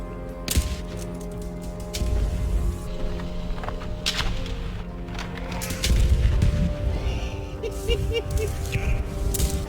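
A grenade explodes in the Post Scriptum shooter game, a deep, heavy boom rising out of a constant bed of battlefield noise with scattered distant reports.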